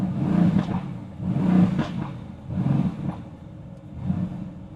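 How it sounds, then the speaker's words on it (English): Repeated throaty revs from a 2016 Mercedes-AMG GT S V8 exhaust in race mode, four rhythmic low bursts roughly a second apart, close and prominent with no one speaking. "so the race mode gonna give me even more nice sound like this."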